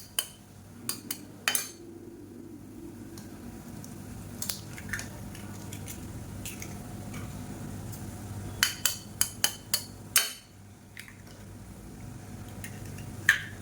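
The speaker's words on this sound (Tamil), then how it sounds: "இப்போ ஒரு மூணு முட்டை வந்து உடச்சி சேர்த்துக்கலாம்" Three eggs cracked one after another into a pan for spicy egg kothu idli, heard as scattered sharp taps and clicks in two small clusters over a low steady kitchen background, with no talking.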